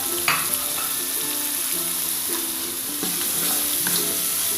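Spice paste frying in a pan for semur jengkol as bay leaves, lime leaves and lemongrass go in, giving a steady sizzle with stirring scrapes over a soft tonal musical backing.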